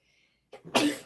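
A single short sneeze, close and sharp, preceded by a brief intake of breath, in an otherwise quiet room.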